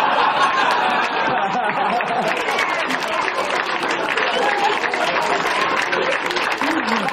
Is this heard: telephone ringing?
no